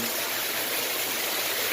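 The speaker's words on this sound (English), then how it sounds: "see the water coming through?" Water pours through an old sock used as a filter in a pond filtration system serving 18,000 gallons, a steady broad rushing hiss that holds even throughout and swells slightly at the end.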